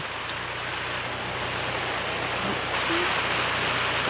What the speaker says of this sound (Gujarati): આ બધો વરસાદ ચાલુ થઈ ગયો છે અત્યારે, ફૂલ વરસાદ વરસેલો છે.